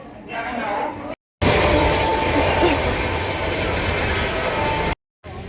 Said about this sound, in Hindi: और अब हम बरेली से जो है हरिद्वार तक के लिए बैठ गए हैं ट्रेन में।